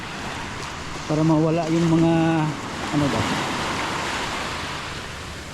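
Sea waves washing in at a calm beach while someone wades into the water, a steady wash of surf with a voice talking briefly over it partway through.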